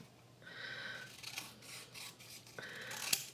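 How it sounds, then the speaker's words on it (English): Scissors cutting a paper piece for a journal insert, close and quiet, with soft rasping snips and paper rustling in short bursts, ending in a small sharp click. "then we'll cut this piece off"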